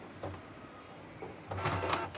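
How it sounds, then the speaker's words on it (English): Canon G-series inkjet printer (G3010/G2010 type) warming up: faint mechanical whirring, then a louder burst of motor and paper-feed noise near the end. "printer is warming."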